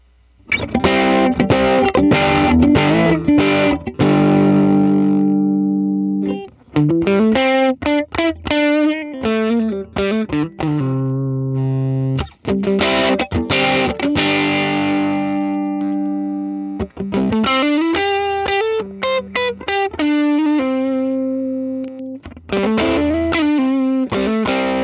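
An electric guitar run through Helix amp and cab models miked with a virtual SM7B, playing distorted chord phrases and riffs in several bursts separated by short silences, loud and close with no talk.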